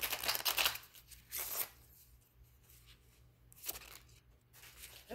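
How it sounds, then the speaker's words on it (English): Tarot cards being shuffled by hand, with bursts of riffling and flicking at the start, around the middle and near the end, separated by quieter rustling. "Let me shuffle."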